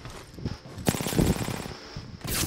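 Gunfire in the Apex Legends video game, a mix of rapid automatic bursts and single shots with a sniper rifle in the fight, fairly close and loud, with short pauses between volleys.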